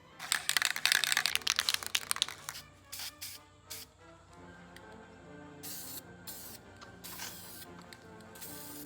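Aerosol can spraying self-etching primer onto a bare aluminum alloy wheel, a close hissing burst for about two seconds followed by several shorter spurts amid faint rattling and handling noise.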